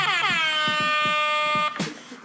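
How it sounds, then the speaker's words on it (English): A loud, blaring air horn sounds during a podcast recording, with a brief pitch drop at the start, then holds a steady tone before cutting off abruptly. "He's been pressing the air horn."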